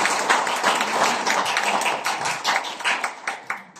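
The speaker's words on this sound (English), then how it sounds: "So can you give yourselves a big, big round of applause?" A group of people clapping for themselves at a gathering, individual claps audible within a loose, uneven patter that rises and dips over a few seconds.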